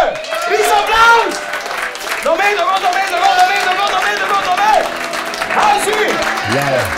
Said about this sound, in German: Riesenapplaus!